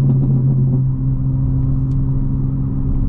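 A 2025 BMW M4 Competition xDrive with its exhaust valves open, idling or cruising in M1 mode: a loud, steady low engine and exhaust rumble heard from inside the car, with no voices.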